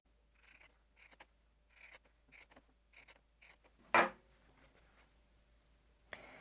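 Pinking shears cut through quilt fabric in a series of short, crisp snips with a soft scraping edge, about a dozen close, quiet cuts in a loose rhythm, with a brief louder knock partway through.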